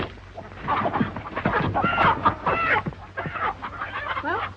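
Chickens cluck and squawk in a busy, agitated flock at close range, with overlapping calls and no talk, in a 1934 Western farmyard.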